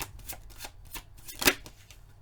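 Tarot cards shuffled and drawn by hand, a quick run of soft riffling card flicks with one sharper snap near the end, close and quiet with no talk.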